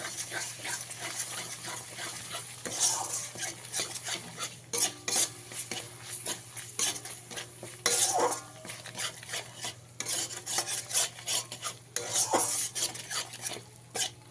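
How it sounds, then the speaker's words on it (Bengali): Spice paste and whisked sour yogurt being stirred in a pan for a vegetarian jackfruit dish, with steady scraping and clinking spoon strokes over a low sizzle and a constant hum, close by and with no talking. "এর মধ্যে দিয়ে দিতে হবে ফেটানো টক দই দু চামচ দিয়ে আবারও ভালো করে মিশিয়ে নিতে হবে"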